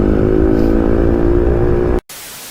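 A motorcycle engine revving hard and steady during a long wheelie, loud and close with a sustained buzzing drone that cuts off abruptly near the end before a brief hiss resumes.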